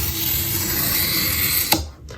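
A very sharp knife drags across corrugated cardboard on a first scoring pass through the top layer, a continuous rasping scrape close up, ending in a brief snap as the blade lifts off.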